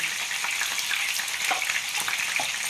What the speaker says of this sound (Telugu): అల్లం వెల్లుల్లి పేస్ట్ బాగా వేగాలన్నమాట.